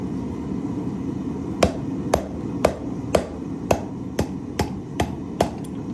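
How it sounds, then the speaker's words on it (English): Hot mild steel is struck with a hammer over a cutoff hardy on an anvil, ten sharp metallic blows at a steady, even rhythm about half a second apart, close and distinct over a low background hum. "We're gonna take a piece of mild steel, try to hot cut it."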